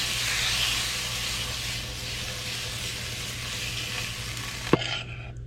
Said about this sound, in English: The only way to cook fish is to fry it.